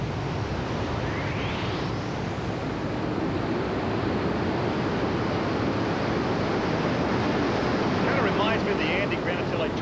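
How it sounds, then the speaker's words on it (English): Turbine-engine unlimited modified tractor pull vehicle at a 1994 pulling event, a loud continuous roaring rush that holds steady throughout with a rising whine, mixed with wind-like broadband noise. "Listen to the sound of these turbine engines."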